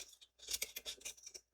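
Scissors cutting a shape out of a playing card, a quick run of faint, close snips and paper rustles.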